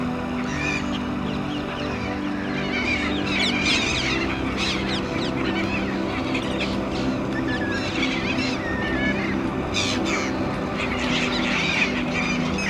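A flock of black-headed gulls calls continuously at a pond near a pipe outflow, producing a dense, steady chorus of overlapping squawks and cries under a constant watery rumble.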